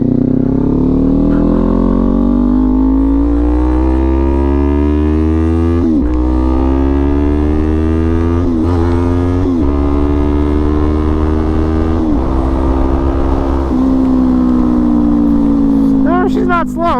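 A Kawasaki Z400 sport bike engine rumbles steadily while riding, its pitch rising through the revs and dropping at each gear change, loud and close the whole way.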